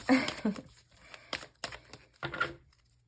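Tarot cards being shuffled by hand, heard as several short crisp riffles and papery rustles in separate bursts, close and moderately loud.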